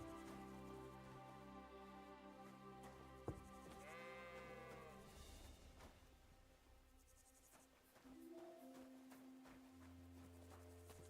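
Sheep bleat faintly on a small farm in the video game Kingdom Come: Deliverance 2, a few quavering calls over soft background music and ambience.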